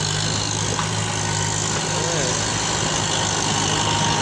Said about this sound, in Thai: ดูรถไถใหญ่ๆแบบนี้ครับ